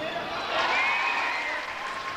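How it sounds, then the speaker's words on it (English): A crowd at a 1995 CBA basketball game between Frankston Blues and Mt Gambier applauds and cheers a scored basket, a steady swell of clapping and voices in an indoor arena. "The crowd enjoy this young man."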